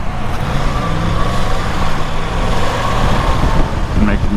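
A Yamaha R1 sport motorcycle ridden on Houston roads, a steady broadband engine and wind roar heard close from an onboard camera, with a rider's voice speaking over it at times.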